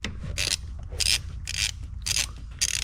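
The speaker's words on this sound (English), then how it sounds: "So right there is the T30 bolt on the turbo inlet, and we're gonna just go ahead and pop that out." A hand ratchet backs a T30 bolt out of the turbo inlet on an MK7.5 GLI, clicking in four or five close, crisp bursts of rapid pawl ticks separated by short pauses, with no talking.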